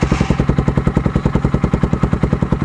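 Motorcycle idling with an Akrapovic dual outlet muffler and no silencer, a steady, close, deep rapid thumping pulse with even rhythm, heard alone.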